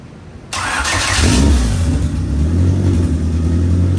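A built closed-deck Honda H22A engine cranks and fires up for its first start, then revs loudly and settles into a steady, rough idle close by.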